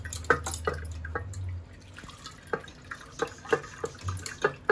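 Water trickles through a strainer to draw juice from crushed crab for a spicy Malvani-style crab curry: a sparse run of close, distinct drips and splashes, with a low rumble early on.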